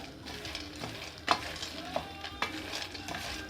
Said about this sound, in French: Quand ça commence à chauffer, vous allez remuer un petit peu de temps en temps.